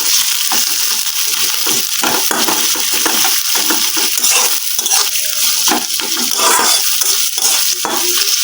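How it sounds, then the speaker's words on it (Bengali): Chopped onion frying in oil in a wok, a dense continuous sizzle with crackling bursts and occasional stirring scrapes, close and steady with no talk. "পেঁয়াজটা তেলের মধ্যে ভেজে নিচ্ছি"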